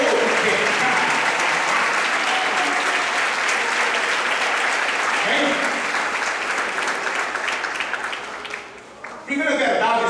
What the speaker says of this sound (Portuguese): Aplauda Jesus em Deus.